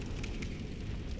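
A bonfire in the video game Dark Souls crackles and roars as a dense, steady rush of fire noise with small pops, close and continuous throughout.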